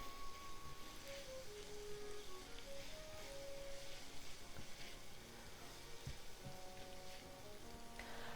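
Onion frying in a pan, a steady close sizzle and crackle running continuously, with faint musical tones over it.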